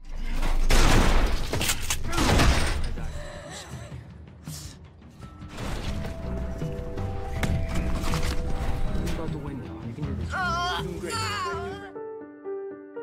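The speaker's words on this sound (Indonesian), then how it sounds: "Injun langsung memborbardir tembakan dari arah pintu." Gunfire in a film scene as a gunman blasts shots through a doorway, with loud bursts early on followed by a busy mix of music and effects, and voices appearing near the end.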